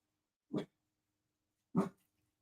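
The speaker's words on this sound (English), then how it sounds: "while my dog barks in the background" A pet dog barks twice in a quiet indoor room, two short, fairly close woofs separated by about a second of near silence.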